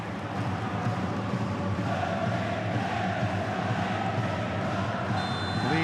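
A huge crowd roars at the National Stadium in Tokyo for a J1 League football match between FC Tokyo and Albirex Niigata, a steady, dense wall of cheering and chanting that is loud and unbroken.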